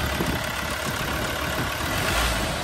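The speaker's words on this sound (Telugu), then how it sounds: "వెహికల్ స్టార్ట్ అయితే అయిపోయింది, చాలా సైలెంట్ కండిషను." A 2018 Ford Endeavour 3.2 4x4 Titanium automatic idles close by, making a steady, broad engine hum with a slight swell near the end and no talk over it.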